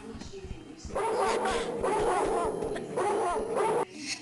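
Dogs barking and yipping in the video game Tomb Raider 2, a burst of game-creature noise that runs for about three seconds at moderate loudness amid other in-game sounds.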